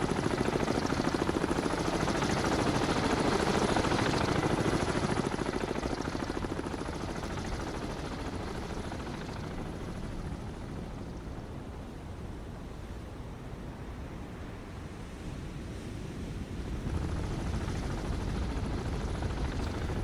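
A helicopter in the submarine video game Cold Waters gives off a steady whooshing rotor drone that is loud at first, eases to a lower wash in the middle, then swells again near the end.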